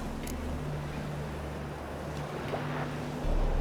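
A boat sets sail on open water in The Witcher 3: Wild Hunt, giving a steady low rumble of hull and waves with a breath of wind that swells louder near the end.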